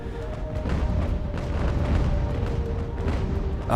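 Naval cannon fire strikes a sailing warship in the Age of Sail battle game Ultimate Admiral: Age of Sail, a continuous low rumbling barrage of booms with no distinct pauses.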